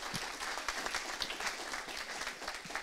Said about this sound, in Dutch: Mag ik een applaus voor Jeroen van Bergijk